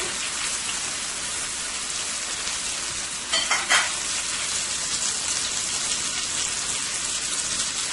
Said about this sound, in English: make sure all 4 sides of your pot roast is fully brown